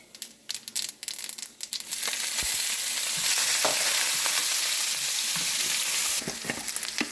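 Mustard seeds hit hot oil for tempering, crackling into a loud, steady sizzle and frying hiss that builds after a few scattered pops and holds for several seconds, close by with no talking.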